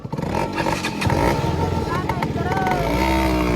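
A KTM Duke motorcycle revs and pulls away up close, its engine note rising and falling with clattering mechanical noise, while voices talk over it.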